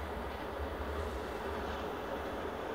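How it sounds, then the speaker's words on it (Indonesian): Kahuripan passenger train rolling past at a level crossing, a steady, loud low rumble of wheels and carriages that holds evenly throughout with no voices. "Kahuripan, ya kereta Kahuripan guys."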